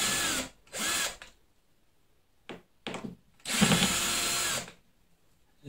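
A handheld electric drill backs screws out of an Ortur Laser Master 2 laser engraver, running in several loud, close bursts of whirring with short pauses between them and no talking.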